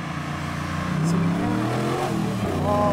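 A restored and modified Chevy Thriftmaster pickup with a GM E-Rod 6.2 LS3 V8 revs and climbs in pitch, a loud, continuous engine roar that swells toward the end, with faint talk underneath.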